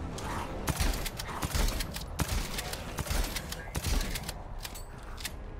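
Repeated gunshots from a gun fitted with a speed loader perk in Dead Island 2, a series of sharp, close cracks fired at an uneven pace over several seconds amid game noise and some talk.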